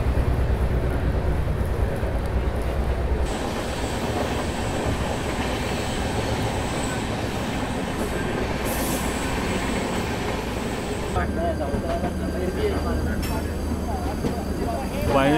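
Double-decker passenger train no. 12584 running on rails between Delhi and Lucknow, a steady loud rumble and clatter of wheels with metallic squeals rising near the end, heard continuously from inside the coach.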